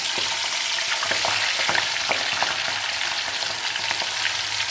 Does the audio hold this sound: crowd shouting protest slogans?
no